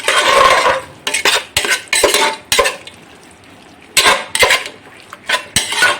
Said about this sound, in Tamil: அதை கொஞ்சம் நல்லா மிக்ஸ் பண்ணி விட்டுக்கலாம்